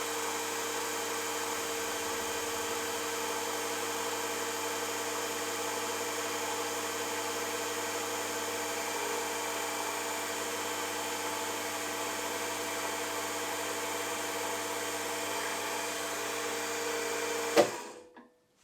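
A drill press runs a number 36 tapping drill into a small engine conrod for a Farm Boy hit-and-miss engine, giving a loud, steady, unbroken whine that cuts off abruptly near the end.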